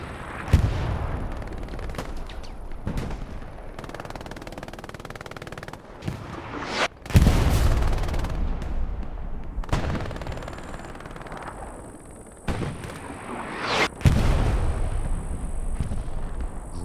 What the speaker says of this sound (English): Great artillery strike.